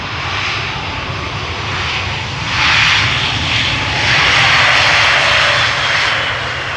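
Airliner landing at Amsterdam Schiphol Airport with thrust reversers deployed: a loud, steady jet roar with broad rushing noise that swells twice, heard alone for the whole stretch.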